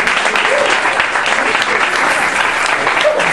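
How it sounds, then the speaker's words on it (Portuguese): Sustained applause from a lecture audience, many hands clapping together in an even, loud roar from start to finish. "Vamos aplaudir Pamela Galvão!"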